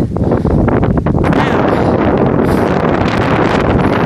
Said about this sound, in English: Woo, man, there's some wind there, boy.